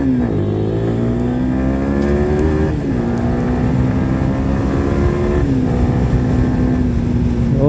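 Yamaha R15 BS6 motorcycle engine and exhaust during a ride, a loud, steady raw drone with rising revs that climb through the gears, dipping briefly at two gear changes, continuous with no talking.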